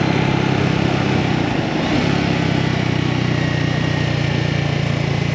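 Scrambler 400X motorcycle riding through a Utah mountain canyon, its engine a steady continuous drone with wind roar throughout, loud and close with no break.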